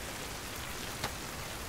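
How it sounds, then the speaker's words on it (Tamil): Steady rain falls outdoors as an even, continuous hiss with no talk, and a single faint tick lands near the middle. "ஏன் மழையில நினைறீங்க?"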